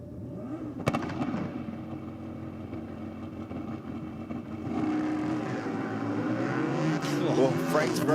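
A drag racing car at Sydney Dragway during an evening NSW Championship round, engine roaring steadily as it runs down the strip, the pitch climbing toward the end, with a commentator talking over it.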